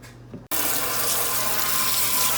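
Water runs steadily from a small sink hose attachment, rinsing the parts of a juicer, a loud continuous spray that starts abruptly after a brief quieter moment and continues alone.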